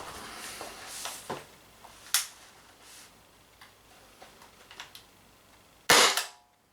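Umarex Impax P68 air pistol, power-tuned, fires a few sharp, snappy shots spaced seconds apart, with a louder crack near the end and faint clicks between, close and with no talking.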